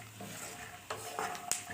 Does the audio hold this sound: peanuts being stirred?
yes